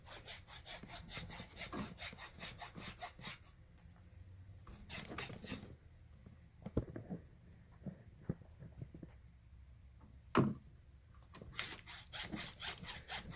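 A handheld woodworking rasp scrapes along the sides of an alabaster stone bear carving in quick rhythmic back-and-forth strokes, pausing briefly between bursts; close and fairly quiet.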